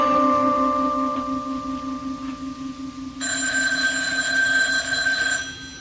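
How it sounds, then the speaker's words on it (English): An old telephone bell rings as a radio drama sound effect, loud and close: a continuous electric ring with a high metallic trill, then a shift to a brighter, harsher tone for the last few seconds, with no talking. "The phone, it's ringing."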